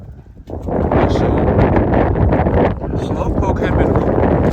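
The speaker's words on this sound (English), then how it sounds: "It's windy out here." Wind blows outdoors on a farm, buffeting the microphone with loud, continuous rumbling gusts that rise and fall throughout.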